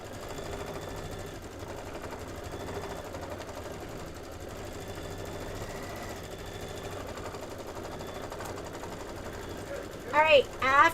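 A sewing machine running a long steady quilting stitch, an even mechanical whir that continues throughout, with a voice briefly heard near the end.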